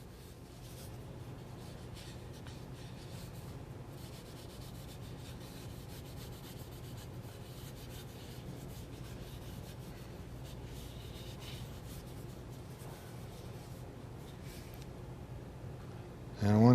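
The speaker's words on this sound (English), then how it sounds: "we'll take a cloth and just rub it down" Cloth rubbing finish into the carved wooden stock of a Heavy Dragoon gun, a steady, soft, continuous scrubbing swish that runs unbroken at a low, even level for the whole stretch.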